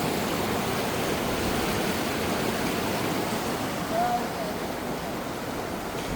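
Floodwater rushing through a flooded ford makes a steady, loud broadband roar, like a close stream or weir, continuous for the whole stretch with no clear talk.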